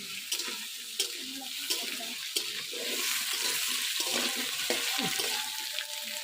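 Potato and carrot pieces fry in a pan for a Bengali katla fish curry, a steady broadband sizzle with occasional stirring clinks and scrapes, close and fairly loud throughout.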